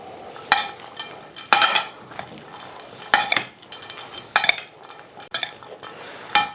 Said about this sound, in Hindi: इनको अच्छे तरीके से हम इसको मिक्स करेंगे